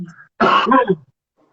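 A single short, harsh cough close by, following a brief faint murmur.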